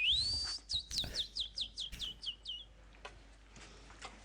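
A man imitates bird calls in the 1970 French film L'Homme orchestre: a rising whistle followed by a quick run of about nine sharp, descending chirps, close and clear, then a few faint clicks.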